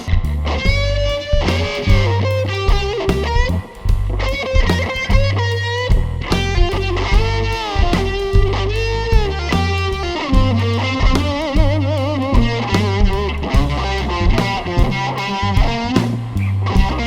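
An electric guitar through stacked overdrives on a Line 6 HX Stomp plays a blues phrase in a throaty, gritty tone, with steady rhythmic chords and sustained lead notes, loud and close.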